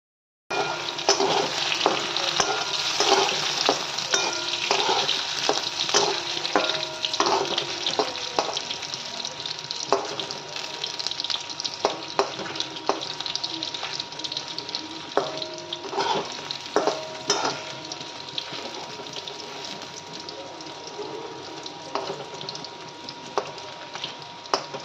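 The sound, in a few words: pumpkin greens stems being fried and stirred in pan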